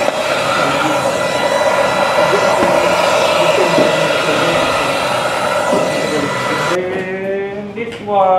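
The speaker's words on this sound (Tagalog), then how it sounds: "And this one, WD3, wet and dry Ito vacuum. powerful." A powerful WD3 wet and dry vacuum cleaner roars loudly and steadily up close, its whine cutting off near the end as the motor shuts down, with faint voices in the background.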